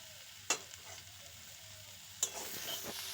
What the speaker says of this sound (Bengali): এবার সবকিছুকে একসাথে খুব ভালো করে মিশিয়ে নেব।